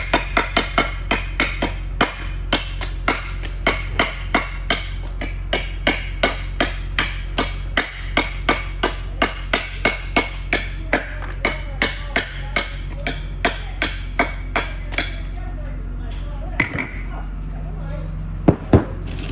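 Thin mosaic veneer stone is trimmed with rapid, sharp, regular hammer strikes, loud and close, continuing in a steady rhythm over a low background hum.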